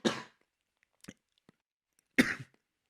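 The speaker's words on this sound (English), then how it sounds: "Coughing up." Two separate coughs, a sharp one at the start and another about two seconds later, with a few faint small sounds between them.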